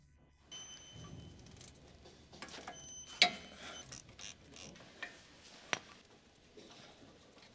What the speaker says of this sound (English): Use a 19mm deep socket with a ratchet to remove the lower mounting bolts on the front sway bar.